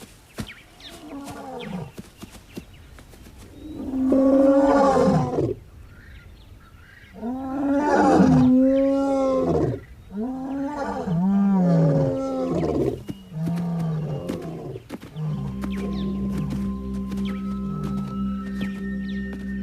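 Lions roaring at night within a kilometre of giraffes in the African wild: several deep, loud, drawn-out roars follow one another in a repeated rhythm, then a steady low rumbling drone lingers at the end.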